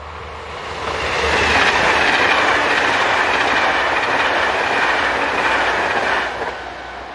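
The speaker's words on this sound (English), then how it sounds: "Introduced into service in 2005, the 7 Italian-built Class 680 Pendolino train sets operate fast expresses from Prague to the east of the country." A Czech Railways Class 680 Pendolino, an Italian-built tilting express train set, passes close by, its loud rushing roar swelling after a second, holding steady with faint clickety-clack from the wheels, then fading out near the end.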